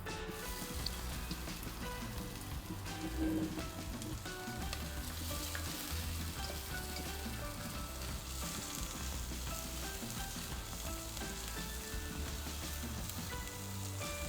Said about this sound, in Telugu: ఫస్ట్ వెల్లుల్లి, పచ్చిమిర్చి వేయాలి.